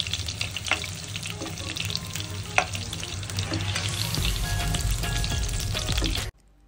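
Chicken kofta balls bound with mashed potato sizzle steadily in hot oil in a kadai, a dense, close frying crackle with a few sharper pops, cutting off abruptly just before the end.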